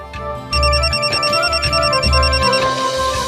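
A mobile phone rings late at night with a bright, repeating electronic ringtone over a throbbing low beat, loud and close, cycling several times without a pause and with no talking.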